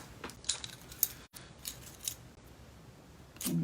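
Scissors snip while a faux bow is being made in a quiet room, a few short, sharp metallic cuts and clicks scattered over a few seconds, close and fairly soft, with no talking.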